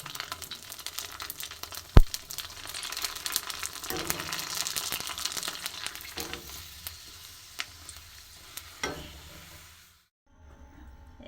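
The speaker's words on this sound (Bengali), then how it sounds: "এই দেখো তেল গরম হচ্ছে আর আমি কি ভাজছি দেখো" Fuchka puris fry in a pan of hot oil at home, giving a steady, bright sizzle with a sharp knock near the start. The sizzle runs on without speech, then cuts out abruptly just before the end.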